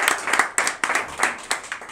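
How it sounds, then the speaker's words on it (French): Sparse, uneven handclaps from a small group at an evening business networking event in a restaurant, individual sharp claps spaced irregularly rather than a full ovation. "C'est là qu'on peut applaudir?"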